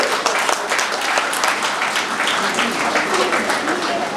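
An audience applauds at the inauguration of Sparsh Hospital in Yelahanka, a dense, even patter of clapping that carries steadily for a few seconds while a voice talks over it.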